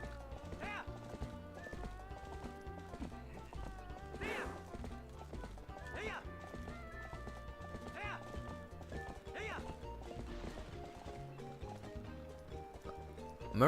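Video game horse hooves clip-clop steadily with repeated neighs and whinnies, sounding close and continuous under a game music bed, while a voice talks over it at times.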